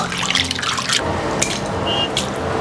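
Water runs and splashes over butterflied, deveined shrimp being rinsed clean in a kitchen, a steady close trickle with a few louder splashy bursts and no talking.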